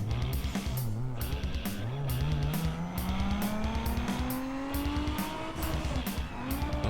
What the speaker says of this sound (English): So now let's do a dyno run.